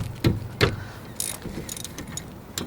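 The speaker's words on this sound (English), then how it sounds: "A 14mm to remove these bolts, caliper bolts." A 14mm ratchet clicks while loosening brake caliper bolts on a 2009 Kia Sportage LX, close up, with a few sharp metallic ratcheting bursts and light clanks of tools in a garage.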